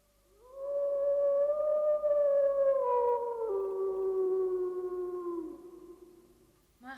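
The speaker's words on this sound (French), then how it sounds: "le loup hurle" Wolf howling, one long sustained howl that rises and slowly falls in pitch over several seconds, clear and alone with no talk.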